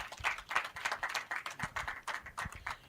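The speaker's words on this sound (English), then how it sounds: "Let's clap, let's clap." Steady, moderately close audience clapping at an alumni emblem unveiling ceremony for the Tanzania chapter of the Cavendish University Uganda Alumni Association, many hands beating in a dense, uneven rhythm throughout.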